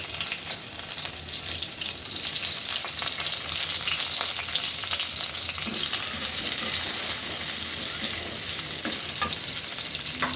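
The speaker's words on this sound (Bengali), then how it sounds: "এবার কড়াইতে দিয়ে দিলাম আর একটু তেল তেলের ভিতরে প্রথমেই আমি পেঁয়াজটা দেবো" Onion hits a little oil in a wok while chow mein is being cooked, giving a loud, even sizzle that holds steady for about ten seconds with faint stirring ticks and nobody talking.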